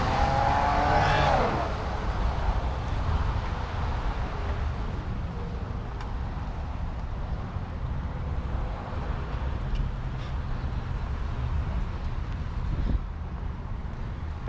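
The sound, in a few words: car traffic, a car backing up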